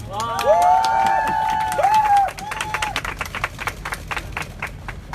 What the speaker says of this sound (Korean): 우리 큰 박수 한번 칠까요?